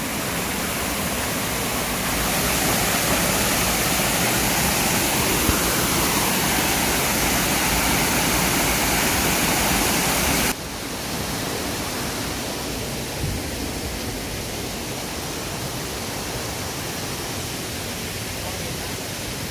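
Steady roar of a waterfall in Laos, loud and close, a dense continuous rush with a slight change partway through and no clear speech on top.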